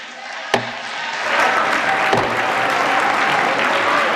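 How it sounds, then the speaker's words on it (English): Applause from Democrats in Congress, a dense crowd clapping that swells after a sharp knock near the start and holds steady, with faint voices beneath. "you're hearing the applause from the Democrats"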